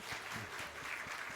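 Brief applause from a small group at a Sunday morning church service, soft scattered clapping heard at a distance over room tone.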